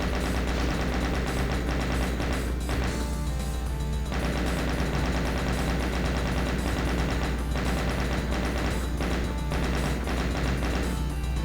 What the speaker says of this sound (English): you can just use rockets and the chain gun on them, like I'm doing here